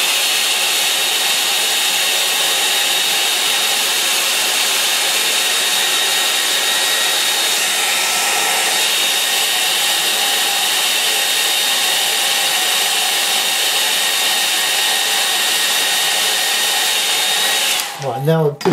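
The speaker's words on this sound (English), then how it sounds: "I'll just dry it off." A hair dryer blows steadily and loudly over a watercolour painting of a misty scene, a continuous whirring roar that holds unbroken for most of the stretch before cutting off abruptly near the end.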